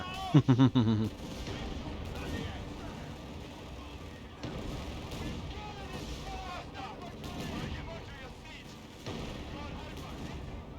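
Artillery fire in the video game Company of Heroes 3, set in a North African campaign: a few sharp heavy blasts open the clip, then a dense rumbling battle bed of distant explosions and gunfire under game voices.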